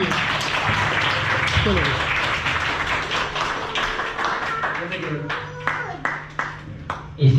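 A crowd at a retirement farewell party claps and applauds steadily, with a voice speaking briefly over the clapping, and a few sharper individual claps near the end.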